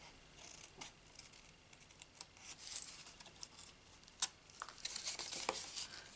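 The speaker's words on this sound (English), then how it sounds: "with my paper snips, I cut up that fold line" Paper snips cut card stock along a fold line, giving a faint, close run of crisp snipping and rustling clicks that speeds up toward the end, with no talking.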